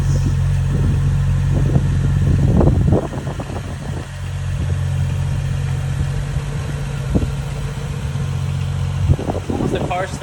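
BMW E82 135i with a tune and full bolt-on mods settling into a steady low idle just after starting, loud and close, with a brief rev blip early and talk over it.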